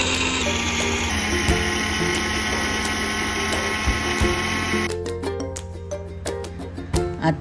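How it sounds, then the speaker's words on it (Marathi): A kitchen mixer grinding coconut, green chillies and garlic cloves for solkadhi, a steady loud whirring drone that changes pitch partway through, then gives way to rapid rattling and knocking bursts. "सोलकढीसाठी खोबरं, 2 मिरच्या, 5-6 लसणीच्या पाकळ्या हे साहित्य मिक्सरला बारीक वाटून घ्यावे"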